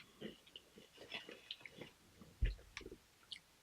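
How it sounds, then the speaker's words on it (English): Spicy nacho Doritos tortilla chips being chewed up close, with irregular crunchy bites and soft mouth noises in a short, quiet stretch, one sharper crunch standing out near the end. "So I just had the like regular Dorito, that spicy nacho."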